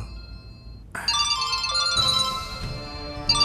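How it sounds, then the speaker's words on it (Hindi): A mobile phone ringtone plays a loud, bright electronic melody of repeating tones on its own, with no talking. "मालिक विक्रम बाबू के फोन"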